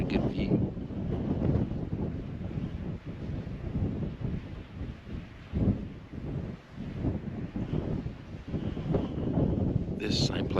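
Mountain wind on a Montana mule deer hunt, with the listener sheltering beside a rock: steady, loud buffeting rumble against the microphone throughout, rising and falling in gusts.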